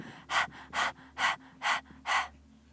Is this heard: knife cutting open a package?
no